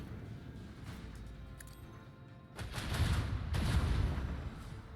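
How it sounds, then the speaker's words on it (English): Starship macro battery guns fire in the game Rogue Trader. A quiet stretch gives way to heavy, rumbling volleys of booming shots that roll in loud bursts and then trail off. "Starboard guns, you may fire at will."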